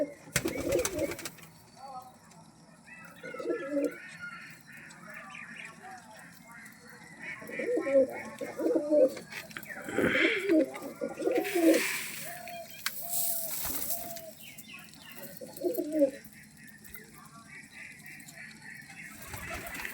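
Pigeons cooing in repeated soft throaty phrases at close range, with wing flutters and rattling movement, and a voice talking over them in places.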